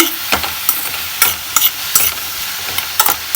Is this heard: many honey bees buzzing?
no